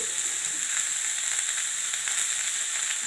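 Onions sauté with turmeric in a pan for mango rice, producing an even, unbroken frying hiss, close and fairly loud, with faint stirring beneath and no voices.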